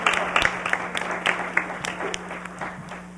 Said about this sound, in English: Once again, can we applaud them?